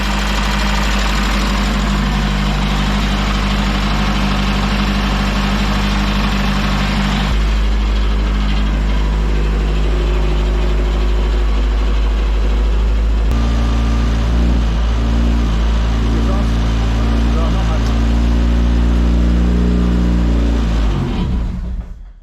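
An Opel C20XE four-cylinder engine runs after 14 years of sitting idle, giving a loud, steady idle that changes tone partway through and then cuts off abruptly near the end.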